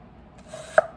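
A knife slices a vegetable about 1/8 inch thick on a cutting board, giving a single short, close cutting tap.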